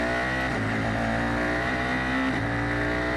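An F4 open-wheel race car bends into turn 11 at Circuit of the Americas, its engine screaming at high revs with a loud, continuous tone that dips briefly on a gear change before climbing again, heard alone.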